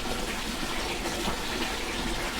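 Water gushing steadily into a tomato feed mix, a continuous close and fairly loud rushing pour with no talk.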